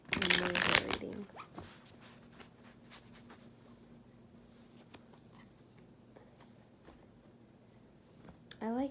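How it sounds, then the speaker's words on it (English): Tarot cards riffled and shuffled by hand, a loud close burst at first then a long stretch of soft, steady patter and light card slaps, with a faint voice near the end. "I like to shuffle a lot"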